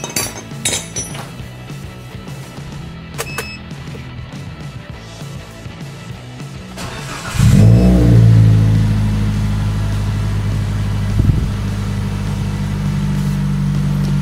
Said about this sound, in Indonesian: ini karena mobil belum dipakai sehingga RPM nya tadi waktu hidup itu 1100-an lah, lebih dikit.